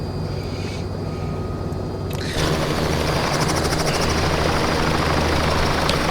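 A Robinson R66 Turbine helicopter in a flight simulator plays a steady turbine whine and rotor drone, with the engine tone shifting a couple of seconds in and then holding evenly, loud and constant with no talking.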